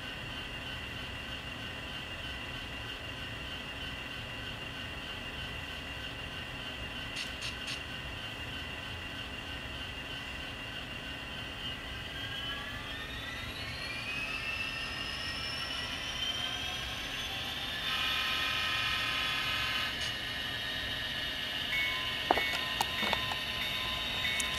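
A Proto 2000 SD60M model diesel locomotive in BNSF 9249 livery, fitted with a Tsunami sound decoder, gives a low, steady diesel rumble that spools up in pitch partway through, with a few faint clicks and brief sharp sounds near the end.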